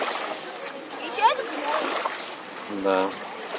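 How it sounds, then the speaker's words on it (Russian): A child at the Black Sea in Gelendzhik scoops seawater with a slipper and pours it over himself, making light splashing sounds while nearby voices talk over it. "Тапочек снял и обливает себя водой."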